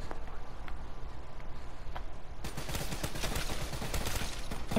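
Assault rifle gunfire in Call of Duty zombies mode at Nacht Der Untoten, quiet at first, then a rapid burst of loud shots in the second half.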